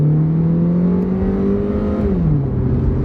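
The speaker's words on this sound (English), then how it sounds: "So we're going to find out what kind of acceleration it really has." Old car accelerating hard on a makeshift dirt drag strip, its engine note climbing steadily with a loud close whine before dropping as the transmission shifts near the end.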